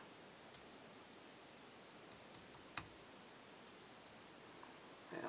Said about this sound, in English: And now I'll type in the password.